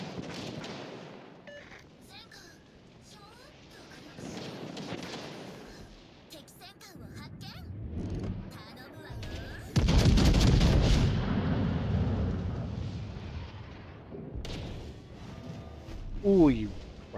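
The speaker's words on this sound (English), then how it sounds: "And another 2 salvos and you're dead." Naval artillery salvos in the World of Warships Legends video game, booming blasts and heavy rumbling that swell around the middle and toward the end, under someone talking over the battle.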